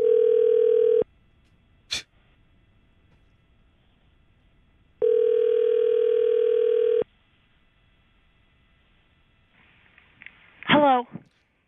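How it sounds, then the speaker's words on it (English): A telephone call at home rings out as two long ringback tones separated by silence, with a sharp click between them and a brief voice answering at the end. "All right, calling Michelle at home."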